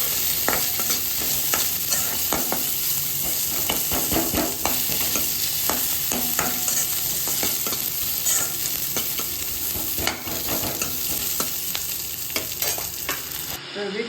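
Onions and garlic fry in oil in a kadai with a dense, continuous sizzle, while close, rapid stirring and scraping carries on throughout.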